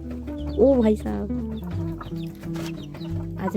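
Hens clucking near a backyard chicken coop with chicks, a rising squawk early on, then steady low clucks and rustling under faint talk.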